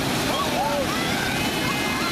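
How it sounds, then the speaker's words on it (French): Fast, turbulent river water rushes in a loud, constant roar that fills the whole stretch, with faint higher whistling or bird-like tones drifting above it. "Et si tu mets ça dans une rivière rapide"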